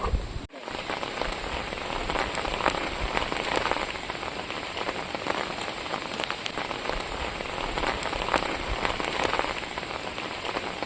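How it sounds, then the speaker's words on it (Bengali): Heavy storm rain falls steadily in the Sundarbans near a crocodile enclosure, a dense, continuous patter on surfaces close by after a brief knock at the start, with no voices. "ঝড় বৃষ্টি শুরু হয়ে গেছে, আর বৃষ্টির মধ্যেই আমরা কুমির দেখছি।"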